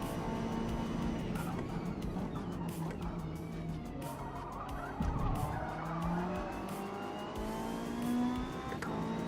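Touring cars racing in a video game, with engines droning and shifting pitch continuously, tires squealing through corners and other cars whining nearby, all loud and unbroken.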